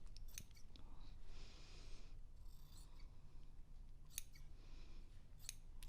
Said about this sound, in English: You can even use your scissors